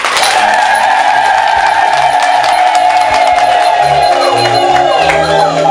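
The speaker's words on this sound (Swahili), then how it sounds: "Makofi kwao." A crowd claps and cheers loudly and continuously for a couple agreeing to marry at a wedding in a Tanzanian film, with voices mixed into the noise.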